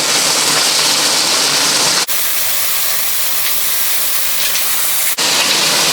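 Chicken drumsticks sear in a hot pan with a loud, steady broadband sizzle that cuts out briefly twice, then resumes at full strength, with no voices.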